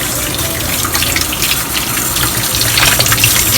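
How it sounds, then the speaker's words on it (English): Carrots are washed under a running kitchen tap, a steady loud gush of water splashing over them without pause and with no voices. "Wash the carrots."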